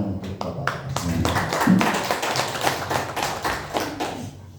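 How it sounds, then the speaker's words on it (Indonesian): Applause for the teachers at a school event: a crowd claps in sharp, scattered beats that build into a steady patter for several seconds. "boleh kasih tepuk tangan untuk bapak-bapak semuanya"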